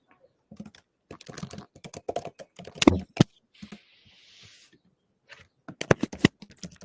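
Rapid clatter of keys on a computer keyboard as a chat message is typed, bursts of clicks alone at close range with brief pauses and quiet gaps.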